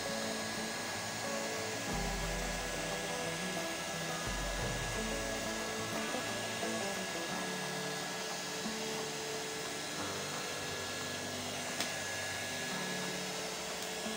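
An electric blower roars steadily and evenly throughout, blowing on a sticker for a cut-out motorcycle temporary plate, close by and loud, with no talking.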